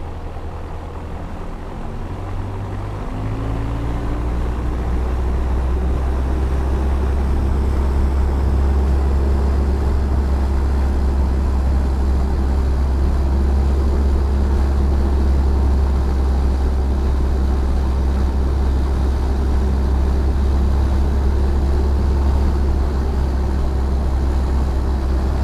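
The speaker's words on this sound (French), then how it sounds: "les essais moteurs, on reste dans l'axe" A light aircraft engine runs up steadily at a French airfield, a deep, loud, continuous drone that swells after the first few seconds and then holds a constant throbbing roar close by.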